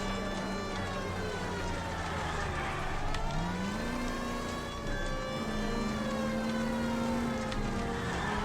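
Police sirens in the 1940s-Los Angeles video game L.A. Noire wail continuously in long rising and falling tones over steady car engine hum, moderately loud and unbroken.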